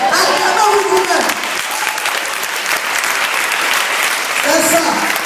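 Congregation clapping together in a church during a Sunday service, a loud sustained burst of applause that holds steady for several seconds.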